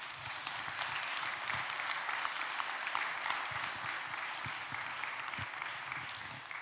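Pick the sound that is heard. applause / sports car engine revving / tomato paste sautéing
applause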